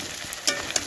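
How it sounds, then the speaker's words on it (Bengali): Rice flour and coriander leaf fritters fry in hot oil, giving a short, close, steady crackling sizzle with a few sharp pops. "কত সুন্দর ভাজা হয়েছে দেখুন, আর আওয়াজটা কত সুন্দর হয়েছে।"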